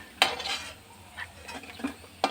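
Roasted dry dates being scooped from a pan of ghee, with a few distinct metallic scrapes and clinks of a spoon against the pan over a soft background sizzle.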